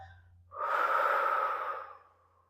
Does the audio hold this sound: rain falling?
no